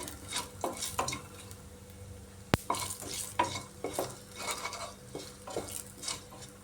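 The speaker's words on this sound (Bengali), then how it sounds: "ফোড়নটা ভাজা ভাজা হয়ে এসছে" Panch phoron spices frying in hot oil in a kitchen pan, a soft sizzle under scattered stirring scrapes and light clinks of a utensil against the pan, with one sharp knock midway.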